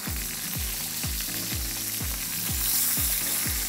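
Pork chops fry in a pan over a steady, loud sizzle, with a regular thumping beat running underneath throughout.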